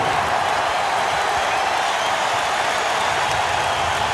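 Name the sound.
basketball arena crowd cheering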